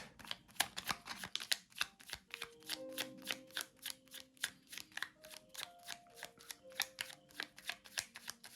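A deck of oracle cards being shuffled, giving a steady run of crisp riffling snaps and soft flutters that stay close and quiet, with a few faint tonal notes in the background and no talk.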